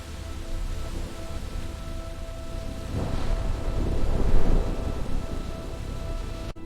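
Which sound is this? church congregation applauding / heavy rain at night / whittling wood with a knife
heavy rain at night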